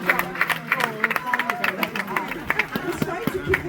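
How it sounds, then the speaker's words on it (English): Brief round of audience applause at a motivational entrepreneurship talk, scattered claps mixed with crowd chatter and a speaking voice running underneath throughout. "Please, can everybody give me a round of applause for"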